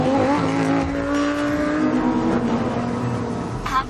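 A Lamborghini Sesto Elemento roars loudly up close, its engine note rising and shifting pitch under hard driving, with a brief tire squeal near the end.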